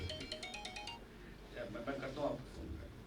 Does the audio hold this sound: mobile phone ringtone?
yes